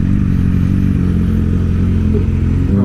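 A Yamaha R6 sport motorcycle's engine holds a steady, loud high-rpm drone close to redline, buzzing continuously near the mic with a slight surge at the very end and no talking.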